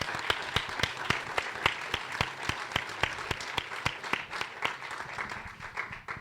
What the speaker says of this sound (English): So I'd like to thank them and give them a round of applause.